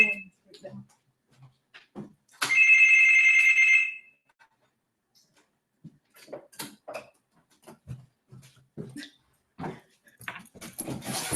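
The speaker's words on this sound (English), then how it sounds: "This is my son ringing my bell." A doorbell rings in a home office, one bright sustained electronic chime lasting about a second and a half, with someone talking before and after it.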